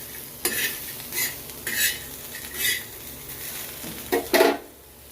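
Food frying in oil in a pan while being stirred, with repeated scraping and stirring strokes over a steady sizzle, close up and moderately loud, no talking.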